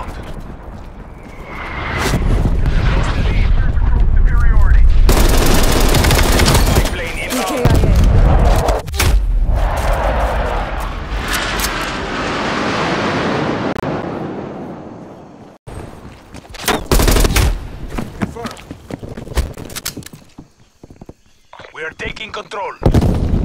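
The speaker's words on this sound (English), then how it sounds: "Hostile artillery targeting active. Artillery inbound." Artillery strike in Call of Duty Black Ops Cold War multiplayer: loud, sustained booms and gunfire-like blasts fill most of the stretch, broken by a sudden cut and sharper scattered bursts near the end, with a voice speaking over the action.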